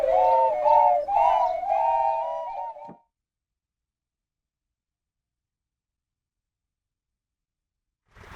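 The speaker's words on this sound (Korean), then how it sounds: "바람소리 같은 오카리나를 연주하며 아이들의 마음은 어느덧 자연의 소리에 빠져든다" Children play ocarinas outdoors in a forest, a few breathy, flute-like notes in a short melodic phrase lasting about three seconds, followed by a long silence and a brief faint sound at the very end.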